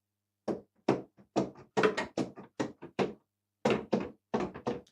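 Keys of a muted digital piano are played, giving a string of dull, close thumps in an uneven rhythm with short clusters and brief pauses, and no voices over them.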